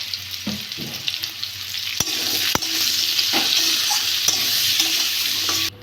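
Vegetables such as sweet potato, bitter gourd, pumpkin and potato fry with ginger paste and turmeric in a pan for shukto, giving a continuous close sizzle broken by sharp scrapes and knocks of a stirring spoon.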